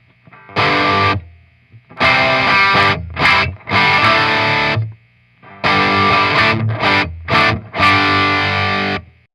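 A Gibson SG Standard '61 electric guitar on its bridge pickup, played loud and distorted in chords with short pauses between phrases.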